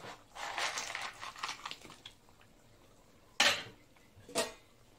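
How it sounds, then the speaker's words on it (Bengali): Fried eggplant, bitter gourd and bori dropped into a pot of Bengali shukto: a scraping, rustling stir at first, then two sharp clinks of a utensil against the pot, close and fairly quiet. "এবার দিয়ে দেবো এই যে ভাজা বেগুন, উচ্ছে আর বড়িটা দিয়ে দেবো।"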